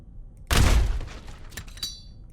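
A single loud cannon blast in a video game, a sharp boom with a brief rumbling tail and a few faint clatters after it.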